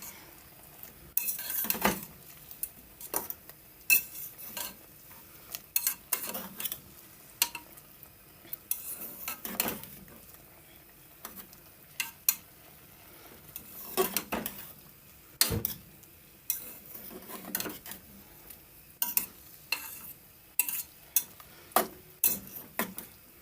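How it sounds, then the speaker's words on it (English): A spoon stirs stew beef in a cooking pot, giving scattered scraping clinks and knocks against the pot at an irregular pace, fairly quiet over a faint background. "Now I'm gonna give it a stir."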